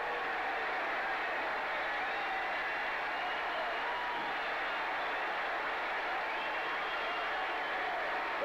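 A baseball crowd at Yankee Stadium on Phil Rizzuto Day cheers as a constant distant roar, heard through an old radio broadcast with a steady, muffled wash of noise throughout.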